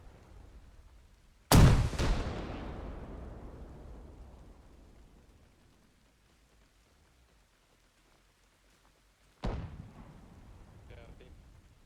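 A single loud rocket blast during platoon training slams in and rolls off in a long fading rumble, with a second sharp boom arriving near the end.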